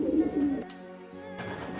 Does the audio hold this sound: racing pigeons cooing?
yes